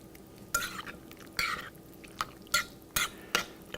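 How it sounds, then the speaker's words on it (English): Gazpacho is mixed with sherry wine vinegar and extra virgin olive oil in a kitchen, giving several close, wet stirring and scraping strokes against the bowl in short, uneven bursts. "Mix that up again."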